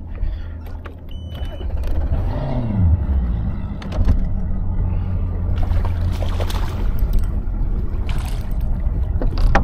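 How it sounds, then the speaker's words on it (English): A boat motor on a lake runs with a steady low drone after a rising start-up whine, close and loud, with water and handling noises on top. "I gotta start my motor now."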